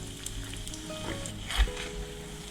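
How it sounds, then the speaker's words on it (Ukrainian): Steady oil sizzling and crackling as kefir-dough pies fry in a pan, close up, with a soft low thump partway through. "Обсмажую з обох боків до гарного золотавого кольору."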